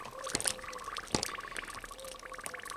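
Fiberglass exhaust wrap for a Yamaha Virago XV 500 soaks in a bucket of water, bubbling and gurgling steadily with a couple of sharper splashy pops, close and moderately loud.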